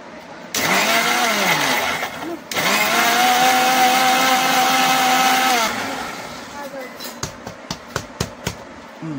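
A mixer grinder whirs loudly in two long bursts while blending milk for caramel pudding, its motor pitch rising as it spins up, then cuts off, leaving a few clicks and knocks.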